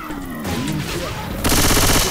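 Gunfire in the video game Left 4 Dead 2, a dense burst of rapid automatic shots that grows louder and busier near the end, continuous through the short stretch.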